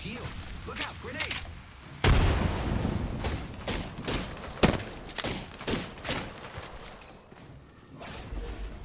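Rapid gunfire in an online battle royale shooter, sharp cracking bursts near and far, heaviest around two and four and a half seconds, scattered shots continuing after, with players talking over the fight.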